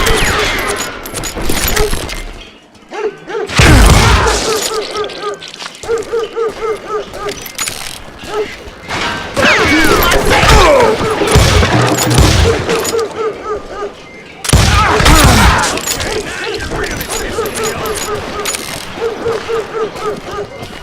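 Gunfire in the Call of Juarez Gunslinger video game: bursts of shots and mechanical clatter that keep going through the clip, loud and dense, with a sharp flurry near the middle and near the end.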